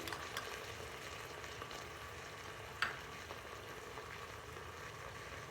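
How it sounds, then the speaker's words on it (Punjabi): Onions with garlic-ginger paste fry in a pan for a home-style paneer curry, giving a soft, steady sizzle with a few faint stirring clicks, quiet and without speech. "ਲਸਣ ਤੇ ਅਦਰਕ ਦੀ ਜਿਹੜੀ ਪੇਸਟ ਹੈ ਉਹਨੂੰ ਪਾ ਕੇ ਤੇ ਥੋੜਾ ਜਿਹਾ ਇਹਨੂੰ ਵੀ ਭੁੰਨ ਲੈਣਾ"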